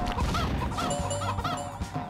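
Clucking and squawking chicken sound effects from the PS1 kart racing game Muppet RaceMania, loud and continuous over busy game audio.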